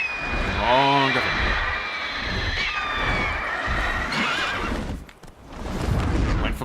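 A horse in the video game The Witcher 3: Wild Hunt lets out a loud, clear whinny early on, then hooves clatter and the fight noise carries on, with a whooshing rush and speech in the mix.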